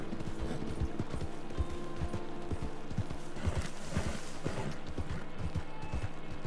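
Horse in Red Dead Redemption 2 Online galloping, rapid rhythmic clip-clop hoofbeats thudding steadily over ambient game background, moderately close and fairly quiet.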